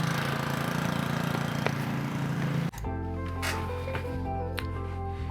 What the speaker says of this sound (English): before the lawnmowers kicked in